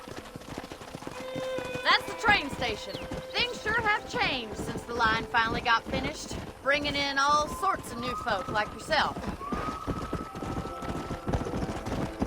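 Steady clip-clop of horse hooves trotting throughout in the video game Red Dead Redemption, with a person talking over them and occasional creaks and jingles.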